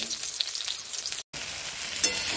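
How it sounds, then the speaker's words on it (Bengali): Garlic sizzling in hot oil in a pan, a continuous close frying hiss with a few sharp pops, cut by a brief moment of silence before the sizzle picks up again. "রসুনটা ভাজা করবে।"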